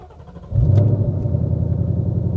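A supercharged 710 hp Ford Mustang engine starts off quiet and idling, then jumps into a loud, deep rev that holds as a strong rumbling roar, close up.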